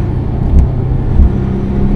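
A modified Porsche 996 Carrera on a test drive, its engine giving a steady low rumble with road noise from inside the cabin, plus a couple of brief thumps, with no talking.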